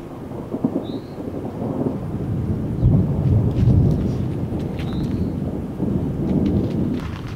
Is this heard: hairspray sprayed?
no